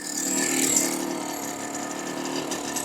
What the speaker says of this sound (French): Je relève le moteur pour le laisser tourner dans le vide.